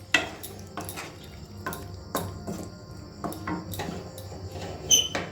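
A spoon stirs curry in a metal pan, making a series of irregular scraping clinks and knocks against the pan, close and moderately loud, with no talking.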